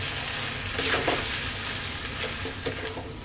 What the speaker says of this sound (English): Give it a stir every now and then